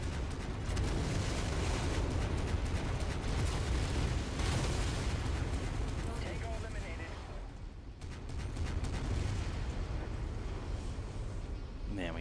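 Dropship weapon systems firing on targets in a video game, heard as a dense, continuous barrage of booming blasts and bursts that stays loud throughout, with a brief lull near the end before the firing resumes.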